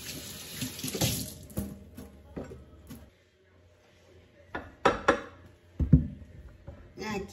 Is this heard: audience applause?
no